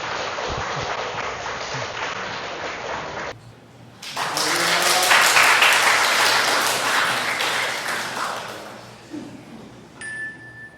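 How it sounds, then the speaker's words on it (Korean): A church congregation at a Christmas service applauds to welcome the Sunday school children coming up to sing, a dense, sustained burst of clapping from many hands that swells and then fades. "우리 주일학교 친구들 특송하러 나올 때 우리 박수로 환영합시다."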